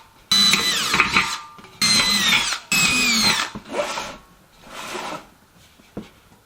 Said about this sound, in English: I'm going to attempt to drill some holes in the metal for my screws